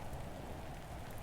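Rain in the Roblox game Natural Disaster Survival, a dense steady patter of drops drumming on surfaces with a low rumbling undertone, continuous and fairly close, with no talking.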